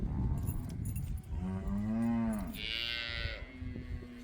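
Cattle fresh off a truck in a station yard give a clear, drawn-out moo close by, with shuffling and a brief jangle of metal around it. No one speaks.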